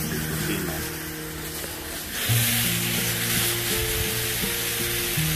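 Bacon sizzles and fries on a Blackstone flat-top griddle, a steady close crackle that swells louder partway through, with no talking.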